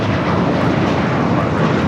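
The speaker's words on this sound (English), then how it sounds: "That was American Flight 32 taking off to JFK on the A321" American Airlines Airbus A321 taking off, a loud, dense jet engine roar that stays constant and powerful for the whole stretch, close by and free of speech.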